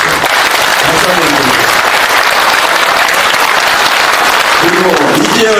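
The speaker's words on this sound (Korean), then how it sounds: "박수 한번 쳐주십시오" A lecture audience in Korea bursts into loud, sustained applause, thick continuous clapping carrying steadily throughout with voices mixed in.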